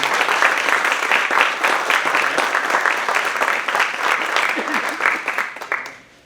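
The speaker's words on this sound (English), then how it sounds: "So please help me give him a round of applause." A community foundation mixer crowd breaks into a round of applause, loud, dense, even clapping from many hands that holds steady before tapering off at the close.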